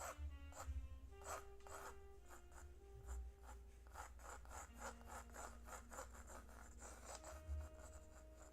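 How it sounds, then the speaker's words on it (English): A pencil scratches rhythmically across paper while someone draws a portrait of Wolverine, hatching in hair. The strokes come as repeated close, dry, raspy bursts over faint background music. "You go a little ASMR with the scratchy scratching."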